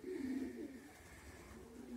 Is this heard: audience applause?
no